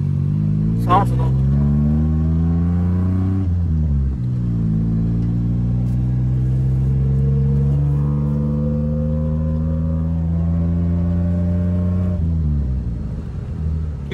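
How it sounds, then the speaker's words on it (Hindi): A car fitted with an aftermarket exhaust revs up close, its deep engine note climbing and falling through several strong throttle blips, then holding a steady drone before a final surge. "जो हमने एग्जॉस्ट लगाया है, साउंड सुनो।"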